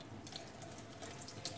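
Steady flow of water from a kitchen faucet running over black bean sprouts being soaked, a continuous close hiss and splash with faint drips, no voices.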